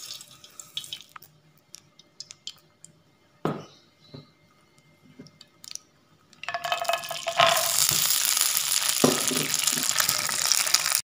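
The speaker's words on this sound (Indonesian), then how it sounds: "sekarang pertama kita lakukan, kita akan goreng kacangnya" Peanuts dropped into a hot pan of oil, a few scattered clicks and knocks giving way to a loud, steady crackling sizzle that fills the second half.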